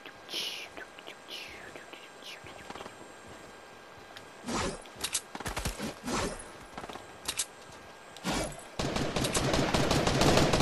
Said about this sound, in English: Where's the shooting coming from?